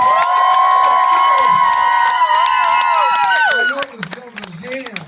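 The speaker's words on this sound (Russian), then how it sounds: "Так вот, друзья, давайте бурными-бурными аплодисментами!" A small crowd at a birthday gathering gives loud, sustained whooping cheers that drop off after a few seconds into scattered claps and chatter.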